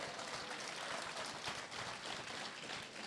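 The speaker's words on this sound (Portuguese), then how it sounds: "Aplauda ao Senhor Jesus nessa noite." A church congregation claps continuously during a service, a dense, even wash of applause that holds at a steady level throughout without speech.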